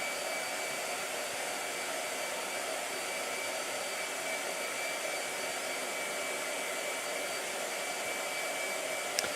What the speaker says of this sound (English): I thought he was done blow drying.